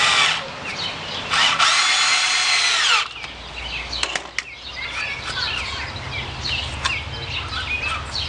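A power drill whines loudly for a few seconds as it drives a screw into cedar boards for a garden bed, followed by clattering and shuffling of boards nearby.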